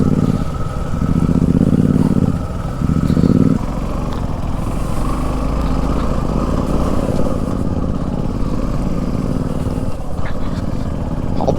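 A motorcycle climbs hill roads near Anjanadri hill by Gangavathi, its engine droning steadily and close, rising in two louder throttle bursts early on before settling into an even cruising hum.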